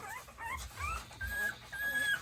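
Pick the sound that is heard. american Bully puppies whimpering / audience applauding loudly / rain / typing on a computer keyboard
american Bully puppies whimpering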